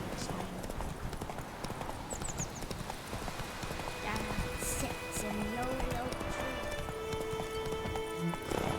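A horse's hooves clip-clop at a steady trot in The Witcher video game, heard continuously beneath game music, ambient sounds and a voice.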